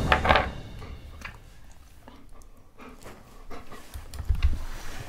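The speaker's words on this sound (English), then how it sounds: "And she's a German Shepherd." A German Shepherd pants in quick, close breathy bursts, louder at the start and again near the end, with quiet gaps between and no talking.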